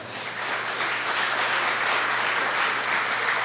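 Sustained applause from an audience at a regional chamber of commerce evening event, with many hands clapping in a dense, steady wash from start to end.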